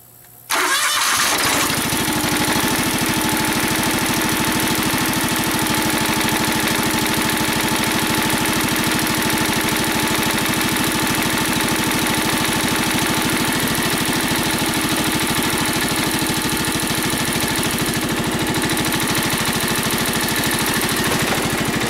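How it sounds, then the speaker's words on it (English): Kawasaki engine on a John Deere X485 lawn tractor cranks briefly, catches, then settles into a steady, loud, close idle that runs on without a break for about twenty seconds. "let's start it up and see what happens"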